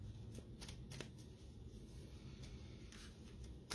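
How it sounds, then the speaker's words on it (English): A deck of cards is shuffled quietly and steadily, the soft riffling punctuated by a few sharper snaps, close up with no talking. "I'm going to shuffle them again."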